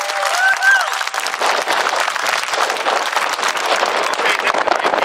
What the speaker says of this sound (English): let's give our World War II folks another round of applause